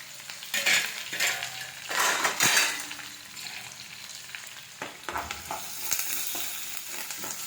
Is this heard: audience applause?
no